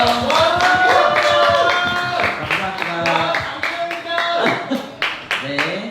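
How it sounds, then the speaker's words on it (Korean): An audience claps at a talk concert, a dense stretch of clapping from a seated crowd that fills the room. Voices and chatter are heard underneath the clapping. "박수 한번 주세요."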